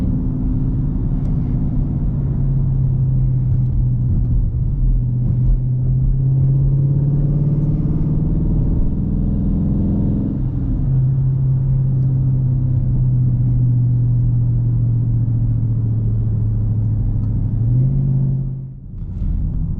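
A Dodge Charger R/T cruises on back roads with a steady low engine drone and road rumble that shifts pitch with gear changes, heard from inside the car throughout with no talking.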